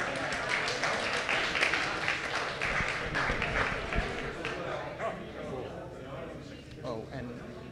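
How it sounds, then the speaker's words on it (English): An astronomy trivia night crowd in San Antonio gives a round of applause, scattered clapping mixed with chatter and voices, fairly close, tapering off in the last seconds. "Round of applause"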